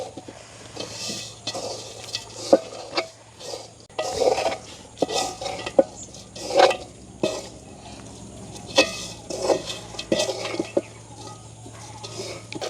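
Noodle sambal mixed with roasted grated coconut is stirred in a pan in a village kitchen: busy, close scraping and clattering strokes repeat steadily against a soft background hiss.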